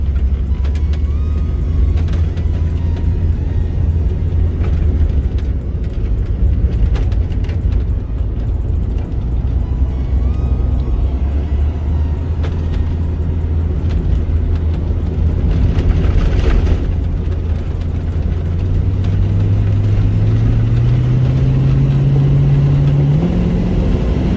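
Interior of a 1969 Pontiac Firebird with 50,500 miles accelerating smoothly and driving, a loud continuous engine drone with road noise, the pitch climbing steadily near the end as it picks up speed.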